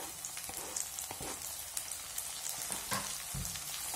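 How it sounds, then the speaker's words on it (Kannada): Tomatoes frying in hot oil tempering in a pan while preparing bhindi (okra) palya, a steady crackling sizzle with scattered pops and soft stirring noises close by, no talking. "ಟೊಮೆಟೊ ಸಹ ಚೆನ್ನಾಗಿ ಫ್ರೈ ಆಗಬೇಕು"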